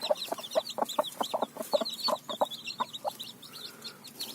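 Two mother hens raising chicks cluck in a busy run of short, close calls, several overlapping in quick rhythm, with faint chick peeps in the background and no talking.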